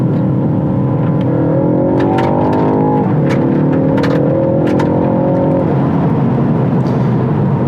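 A Ford Focus ST hatchback engine revs hard and climbs in pitch, drops briefly as a gear changes, then climbs again, loud and close throughout.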